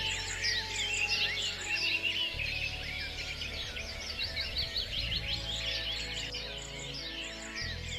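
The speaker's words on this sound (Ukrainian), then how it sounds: "Так, це спів пташок." Several birds chirp and trill continuously, a busy chorus of high tweets over a low steady hum.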